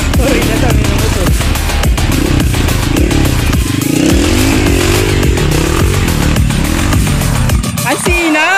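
Enduro motorcycle engine roaring up close on a trail in Zamboanga City, Philippines, loud and continuous with revving pitch swings, while a voice talks over it.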